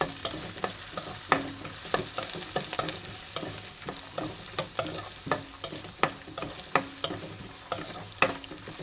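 Onions fry in hot oil with curry leaves while a spoon stirs them, giving a steady crackling sizzle cut by a regular series of sharp scraping knocks against the pan, close and fairly loud.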